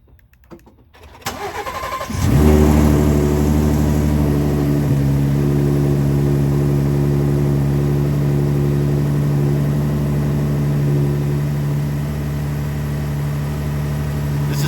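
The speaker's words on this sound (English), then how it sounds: "Now let me show you exactly what it does when you start the truck." After a brief quiet moment, a truck engine cranks and catches, then settles into a loud, steady idle that rumbles on without change.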